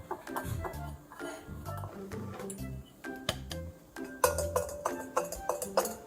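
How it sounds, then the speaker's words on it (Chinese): Dry powders of cake flour, baking powder, yeast, milk powder and custard powder being stirred together in a bowl for Cantonese ma lai gao, with close, irregular clinks and scrapes of utensil against the bowl. "现在混合所有的粉类，就是低筋面粉、泡打粉、酵母、奶粉、"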